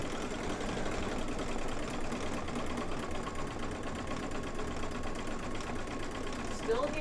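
A sewing machine stitches a spring flower mug rug, humming with a steady, fast, even mechanical whir that runs unbroken from start to finish, close by.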